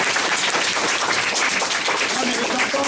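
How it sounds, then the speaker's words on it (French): An audience applauds at a book presentation in Lomé with steady, dense clapping from many hands. The applause is loud and sustained throughout, with no talk over it. "On n'a qu'à l'applaudir"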